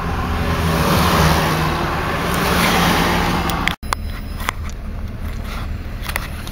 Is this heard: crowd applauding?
no